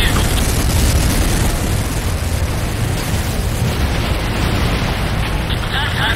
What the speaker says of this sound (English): GDI weapons factory destroyed.